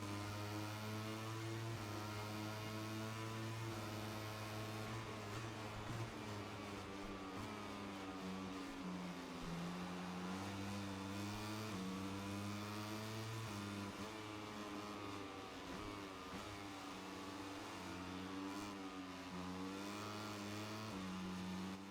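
Racing motorcycles in MotoGP 25 roar at the start of a race, engines droning and shifting pitch as they rev and change gear, loud and continuous with several bikes blending together and no talk.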